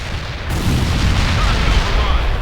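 Mortar strikes land in a World in Conflict battle, a dense rumbling roar of booms and low impacts that swells after a brief lull and holds steady, loud and close, with battlefield noise throughout.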